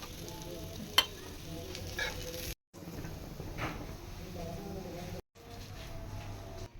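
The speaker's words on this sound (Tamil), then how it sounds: "இப்போ நெக்ஸ்ட் ரவுண்டு இதையும் பொறிச்சு எடுத்துக்க வேண்டிதான்" Round potato slices frying in hot oil give a steady close sizzle with crackling bursts, interrupted by two short silent gaps; faint voices are present underneath.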